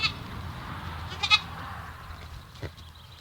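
A goat gives a few short bleats close by, one near the start and another pair midway, over a quiet outdoor background with a faint later call.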